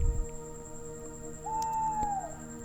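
A white owl living in an eastern tower gives one soft, drawn-out hoot that glides and then fades, set against a calm, sustained musical background.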